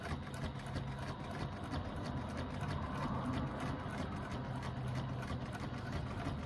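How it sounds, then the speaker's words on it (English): A sewing machine stitches a seam with a 1/8-inch allowance: a steady, even motor drone with quick, regular needle ticks running throughout, with no voices. "And I'm stitching at an 1/8 of an inch seam allowance."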